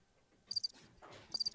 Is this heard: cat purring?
no